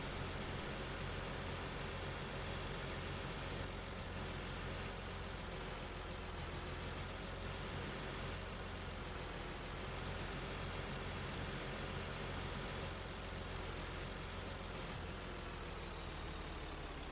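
A tractor engine in Farming Simulator 2013 drones steadily while pulling a heavy spreader, a continuous low rumble holding at an even level throughout with no speech over it.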